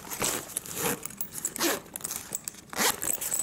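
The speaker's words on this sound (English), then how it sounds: "the zipper moves both ways, whether this way or this way." A zipper on a Travelon anti-theft classic sling bag is pulled back and forth in several short, close rasping runs with brief pauses between them, and no voices are heard.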